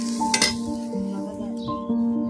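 Banana slices frying in a pan give a low sizzle with a few stirring scrapes and clinks, while a steady tonal hum runs underneath.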